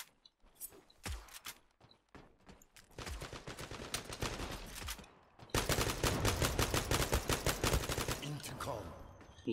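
Kalashnikov rifle fire in the online shooter Zula on the Maiden's Tower map: close, loud automatic bursts that rattle rapidly, pause briefly, then resume as a longer, denser stream of shots near the end.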